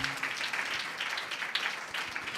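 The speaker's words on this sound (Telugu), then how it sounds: "క్లాప్స్ కొట్టి దేవుని మహిమపరుద్దాం." A church congregation clapping together, a dense, continuous wash of applause at moderate distance that holds steady throughout.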